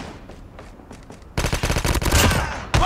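Automatic gunfire in Call of Duty with an AK-117 in play: quiet scattered shots at first, then a sudden loud stretch of rapid, closely spaced bursts, ending with a final sharp crack.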